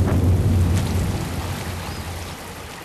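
Rainstorm in the open, a steady broadband wash of falling rain with a deep low rumble, loud at first and easing slightly over a few seconds, no voices.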